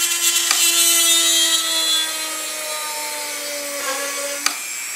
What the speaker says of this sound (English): So we'll drill ourselves our first hole